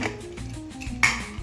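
A metal lid is set onto a cooking pot with a sharp clink and a brief ring, then another clatter of metal, close up in a quiet kitchen while vatana bhat cooks.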